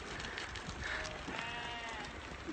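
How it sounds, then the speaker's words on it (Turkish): A large flock of sheep coming down a mountainside beside a small lake in Kyrgyzstan, with many overlapping bleats forming a continuous chorus against steady outdoor background noise. "çok büyük bir koyun sürüsüyle karşılaştık"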